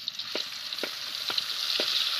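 Ginger garlic onion paste fries in hot oil with a bright, continuous sizzle that swells gradually, while a spatula scrapes about four times at a steady pace, heard close with no talking.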